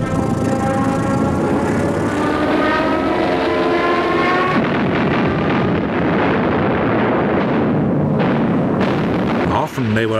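Wartime aircraft attack from the air, with a loud droning engine that sweeps down in pitch, then dense rumbling blasts and heavy fire crowding close and continuing to the end.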